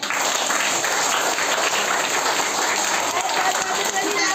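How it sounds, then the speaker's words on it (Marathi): An audience gives loud, dense, sustained applause for a girl balancing on one leg in a Children's Day contest, a continuous close patter of claps filling the whole stretch. "तर हिच्यासाठी जोरदार टाळ्या होऊ द्या"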